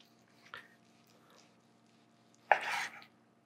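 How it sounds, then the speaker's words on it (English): A slicing knife cuts the top off a small cheese-stuffed meatloaf with roasted pepper inside, giving a faint tap near the start and then one short, louder crunching slice close by, with no talking. "Now I'm just gonna cut the top of this little coffin right off."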